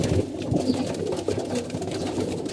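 A pet pigeon coos in low, throaty repeated phrases, close by, set against a constant loud background hiss and rumble that stays level throughout.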